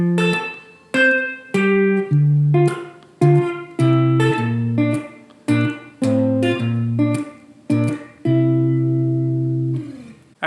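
Guitar playing part of a song, a series of strummed chords with short gaps and a final sustained ringing chord, loud and close, with no talking.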